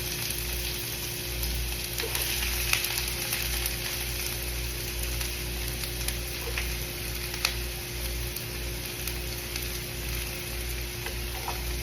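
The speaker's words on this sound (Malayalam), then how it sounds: "നമ്മുടെ സവോള കട്ട് ചെയ്ത് വെച്ചിട്ടുള്ളത് കൂടെ തന്നെ ചോർത്ത് കൊടുക്കാം" Sliced onions frying in a pan while pasta is being prepared, giving a steady, even sizzle with small pops and occasional stirring clicks, continuous from start to finish with no talk.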